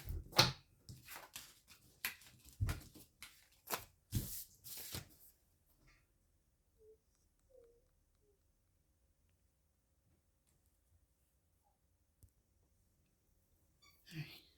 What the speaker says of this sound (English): I want to do some oracle cards.